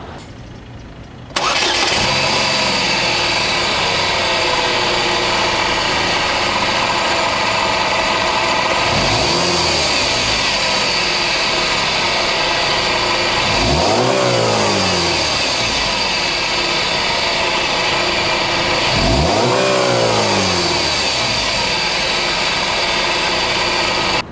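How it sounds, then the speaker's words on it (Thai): Close petrol engine of a Chevrolet Captiva SUV starts, settles into an idle, then revs up and back down three times at even intervals, loud with no talking. "มาฟังเสียงเครื่องยนต์กัน"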